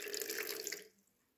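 Water used earlier to feed orchids is poured into a container, a steady splashing stream for under a second before it stops and goes quiet.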